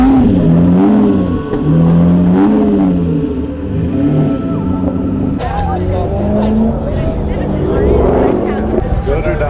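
Cars rev their engines loudly at an all-BMW car meet. Repeated rising and falling engine revs swell nearby, with other traffic passing, while people talk over the noise.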